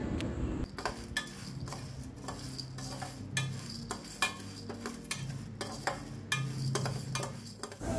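Toor dal, chana dal and urad dal dry-roasting in a pan for homemade sambar powder, with a soft background hiss and repeated sharp scrapes and clinks of a spatula stirring against the metal, fairly quiet and close.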